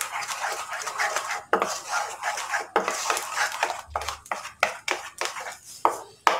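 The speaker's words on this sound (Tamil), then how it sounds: "நல்லா கைவிடாமல் நல்லா கிளறி விட்டுக்கோங்க." A ladle stirs thick wheat flour halwa in a pan, making repeated sharp scraping and clanking strokes that come close and fairly loud, in an uneven rhythm, with no voices.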